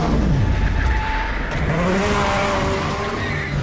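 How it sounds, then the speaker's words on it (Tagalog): A sports car races through a movie chase scene, its engine roaring steadily at close range alongside rushing tire and road noise, loud and continuous with no talking. "dumating naman si Katya sakay ng isang sports car at isinakay siya nito para habulin si The Frog"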